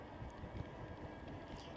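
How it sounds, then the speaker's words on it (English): Strong outdoor wind buffets the microphone with a steady, loud low rumble and roar, broadband and unbroken for the whole stretch, with no voice heard. "Now it's super crazy windy out here."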